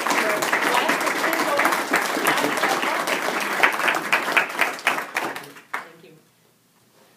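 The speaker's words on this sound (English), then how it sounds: "again with a round of applause, Gary Bies" Audience applause for Gary Bies, a dense burst of clapping from a crowd that carries steadily for several seconds, then thins and fades away to near silence.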